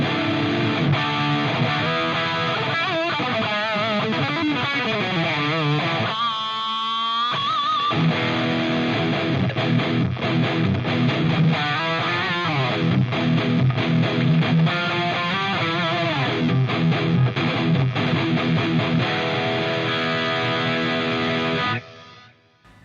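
Loud distorted electric guitar riffing through a Line 6 Helix amp modeler with impulse responses, chugging chords and bending lead lines, steady and close, ending abruptly.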